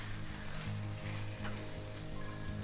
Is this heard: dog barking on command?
no